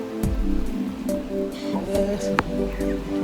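Rain falls steadily during a heavy May downpour in the countryside, a soft continuous patter heard close by with a few sharper drips.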